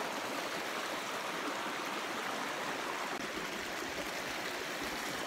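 Cold mountain river water rushes steadily past near pine forest, a loud, continuous broadband roar of flowing current with no voices over it.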